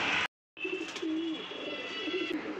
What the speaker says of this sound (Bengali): আমি দেখাচ্ছি আমার বাড়ির পায়রা।